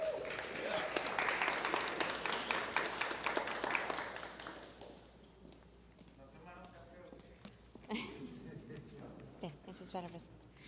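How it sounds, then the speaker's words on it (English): An audience at a 1 Million Cups entrepreneur meetup in Brownsville, Texas, gives the speakers a big round of applause that is dense for about five seconds, then thins and fades as people begin talking. "we can receive them with a huge round of applause"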